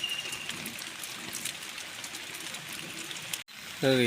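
Heavy rain falls near a creek among trees in the Konkan countryside, a dense, even hiss of drops lasting throughout. A brief dropout comes near the end, followed by a short tonal sound.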